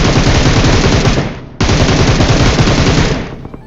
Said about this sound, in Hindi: इसके बाद बाजू में से फायरिंग आती है।